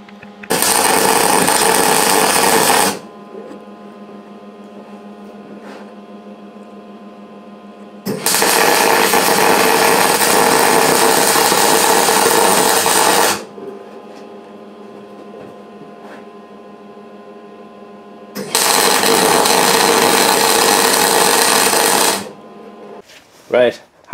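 Angle iron legs for a welding project are cut with a power tool, three loud harsh bursts of roughly three to five seconds each, with a steady machine hum idling in the gaps between cuts.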